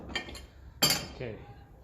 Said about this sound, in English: let's pick out a nice washer for him and split pin